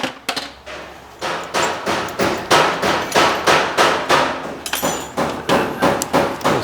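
An impact wrench hammers at rusted caliper bracket bolts in a run of rapid, regular bursts, each a loud rattling clatter that swells and drops, repeating steadily and close.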